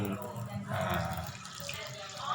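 Water runs steadily from the tap of a wall-mounted eSpring water filter. The rushing flow is continuous and close, and someone speaks over it.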